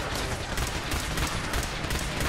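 Dense, continuous gunfire from a Fallout 4 battle, sustained automatic bursts and overlapping shots crackling without pause across the whole stretch, loud and close.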